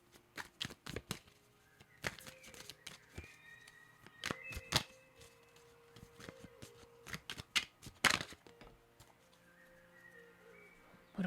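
Tarot cards being shuffled by hand, rapid riffling and slapping in uneven bursts, close and crisp, with a faint murmur of talk at times.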